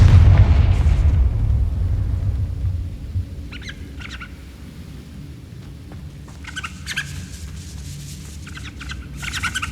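A Confringo blasting spell goes off in Hogwarts Legacy with a loud, deep boom at the start that fades into a low rumble, followed by scattered faint crackles and bursts.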